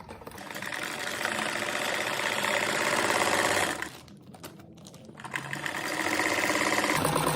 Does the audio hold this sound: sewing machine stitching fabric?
yes